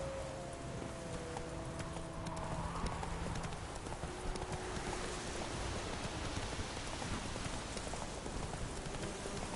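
A horse galloping in The Witcher 3 video game, its rapid rhythmic hoofbeats continuous under steady rain, fairly faint overall, with a brief voice near the start.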